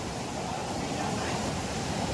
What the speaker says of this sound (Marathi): धबधबा एवढा पाणी.